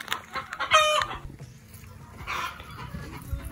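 Backyard chickens clucking close by, with a rooster-like squawk about a second in and scattered clucks after it over a soft outdoor background.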